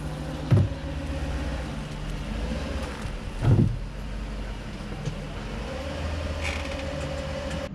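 A Mercedes R129 roadster idles after a fuel pump replacement, a low steady engine hum with a couple of brief louder thumps and faint background noise.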